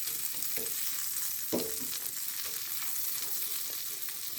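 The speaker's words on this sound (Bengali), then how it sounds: "1 স্লাইস বাটার দিলাম, 1 টেবিল চামচ রসুন কুচি দিলাম। রসুনের ফ্লেভার আসা পর্যন্ত ভেজে নেব।" Chopped garlic frying in butter in a pan for vegetable noodles, a low continuous sizzle with occasional spoon taps and one sharper knock, no voices.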